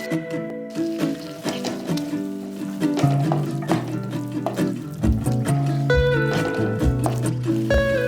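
Water poured into a pan of frying chicken salna masala, a steady liquid trickle and fill with faint clinks, heard over a tonal musical background without speech.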